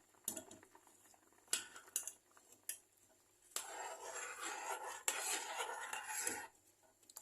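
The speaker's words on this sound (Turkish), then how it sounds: "Şimdi çorbamızın terbiyesini ilave ediyorum" Egg-lemon sauce goes into a pot of meatball soup amid quiet clinks of a utensil against the pot, then a stretch of pouring and bubbling, with faint scattered taps throughout.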